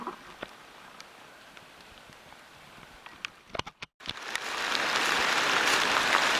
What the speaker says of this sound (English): it's raining like crazy right now.